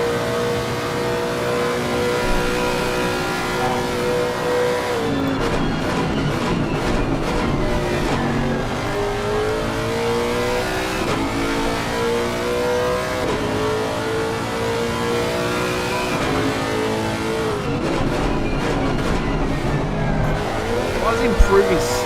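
A Lexus race car engine lapping Bathurst in a racing video game, revving and shifting through the gears in a long steady drone, with commentators talking over it.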